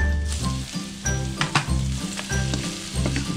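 Minced garlic sizzles in a hot pan, a steady close crackle with rhythmic stirring scrapes and occasional sharper pops, heard alone without talk.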